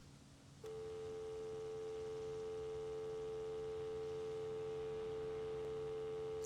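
A telephone dial tone from the video game ArmA Reforger starts suddenly after a brief quiet moment and holds as a steady, pure electronic hum at constant pitch, alone and fairly soft.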